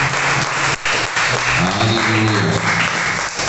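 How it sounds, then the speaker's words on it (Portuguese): A church congregation at a Brazilian evangelical service applauds loudly and steadily, a dense sustained clapping wash with a voice calling out over it. "Você pode aplaudir o nome do Senhor?"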